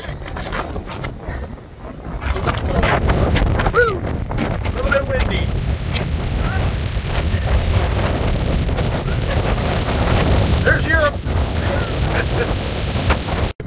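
Strong wind buffets the microphone on Coast Guard Beach at Cape Cod in October 2022 during Hurricane Ian, a loud continuous roar under voices talking.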